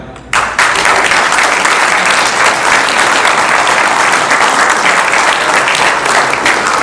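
A crowd at a mayor's public event claps loudly and continuously after a brief quiet start, a dense steady wash of applause that keeps going without pause.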